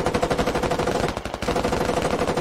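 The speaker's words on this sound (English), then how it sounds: "Dwarf just shooting everything and anything around him to try to stop the Guido on top" Rapid, continuous automatic gunfire from a player in the military shooter game Squad, loud and close, with a dense unbroken stream of shots that barely pauses.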